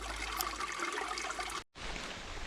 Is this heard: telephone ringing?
no